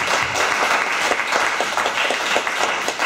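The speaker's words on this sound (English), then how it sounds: "let's give CTI a warm round of applause" An audience gives a workshop presenter a warm round of applause, dense steady clapping that fills the whole stretch at close, even loudness with no talk over it.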